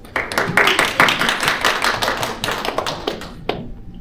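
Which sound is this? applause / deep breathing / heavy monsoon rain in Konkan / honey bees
applause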